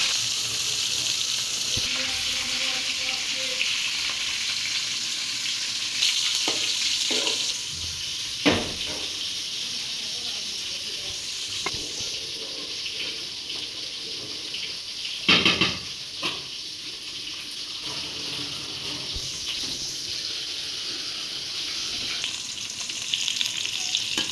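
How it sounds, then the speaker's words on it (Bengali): Boiled cauliflower frying in oil in a deep pot: a steady close sizzle throughout, broken by a few louder bursts and scraping stirs, with no one talking. "এইবার সেদ্ধ করা ফুলকপিগুলো বাজা হবে জন্য ডেক্সিতে তেল দিয়ে দিচ্ছি"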